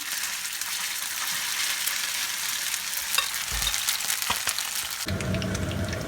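Chopped chicken patties sizzle steadily in a hot frying pan, a constant crackling hiss with a few sharp pops and a brief shift in tone near the end.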